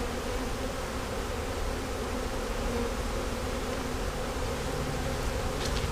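Honey bees swarm around a salvaged brood frame from a hive rescued out of a tree, a dense continuous close buzzing drone that stays steady throughout, with no voices.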